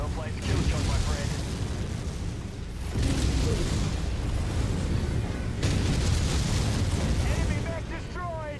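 Destroyed enemy mech in a MechWarrior battle, an Atlas AS7-RS in play: loud, sustained rumbling explosion bursts in three surging waves over a constant roar of combat noise, with radio chatter mixed in.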